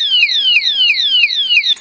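An armed alarm padlock lets out a loud electronic warble: about five quick falling chirps repeated in a steady rhythm, close by and with no talking.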